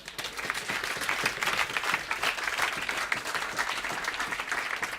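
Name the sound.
audience applause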